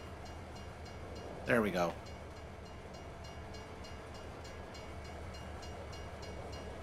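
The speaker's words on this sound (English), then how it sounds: "trains cannot stop on a dime. But we can certainly get one going for a nickel." Train in Farming Simulator 22 rumbling steadily in the background with a rhythmic clicking, a short loud horn blast near the start, and a voice speaking briefly.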